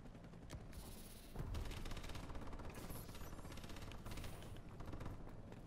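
An automatic gun in Advanced Warfare fires on its own in a steady, fast stream of shots, moderately loud and continuing through the whole stretch after a brief quieter start.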